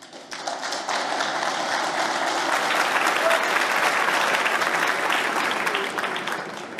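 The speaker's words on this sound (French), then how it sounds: "Applaudissez." An audience at a speech breaks into sustained applause, a thick wash of clapping that swells within the first second and stays loud and even to the end.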